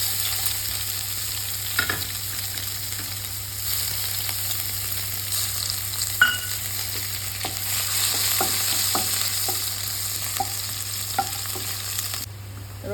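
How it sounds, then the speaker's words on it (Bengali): Garlic and cumin seeds frying in oil in a pan, a continuous sizzle with a steady low hum and repeated light ticks of a spatula stirring. "রসুনটা দেখুন খুব সুন্দরভাবে ভাজা হয়ে গেছে"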